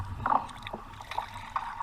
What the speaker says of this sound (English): Get out in a canoe, do a bit of paddling.